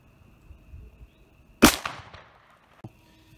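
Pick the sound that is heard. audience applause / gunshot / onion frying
gunshot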